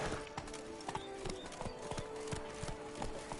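Hooves of Roach, a game horse in Witcher 3, clip-clop in a steady trotting rhythm close by, with faint ambient music and a brief whinny-like tone underneath.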